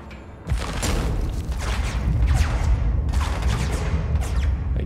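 Enemy gunfire in the video game Control crackles as sustained, loud volleys of shots and thuds after a brief quieter opening, with bursts rising and falling in steady succession.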